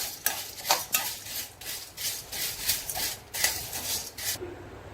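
Cardamom pods roast dry in a pan, stirred in a regular rhythm of rustling scrapes and light clinks, close and fairly soft, with no talking.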